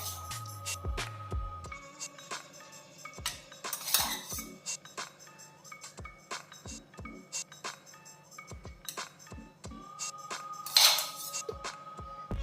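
Cooked rice spooned into a clay pot and spread out for chatti choru: repeated close scraping and clinking of a metal spoon against the pot, irregular taps and knocks throughout, no voices.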